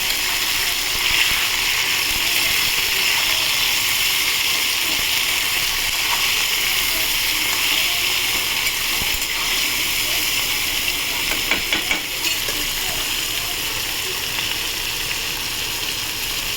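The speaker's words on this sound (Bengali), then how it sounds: "এই বেগুনটা নুনের সাথে দিয়ে দিলাম, নাড়বো।" Eggplant pieces fry with salt in a pan, a steady, loud, continuous sizzling hiss that holds throughout, with a few faint stirring scrapes partway through.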